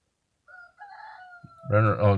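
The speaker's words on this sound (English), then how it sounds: "excuse the roosters. It happens around here around this time." A rooster crows, with a second, louder crow following close behind, fairly near and ringing out against an otherwise quiet background.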